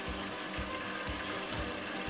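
A gouge takes a finishing cut on a wood-turned bowl spinning on a lathe, giving a steady droning whir with a regular low pulse from the rotating bowl, close and continuous with no talk.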